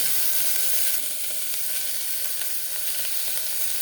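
Small onions, tomato, garlic and green chili sauté in a hot pan, a steady close sizzle and hiss that eases slightly after the first second and then keeps crackling evenly, with no voices.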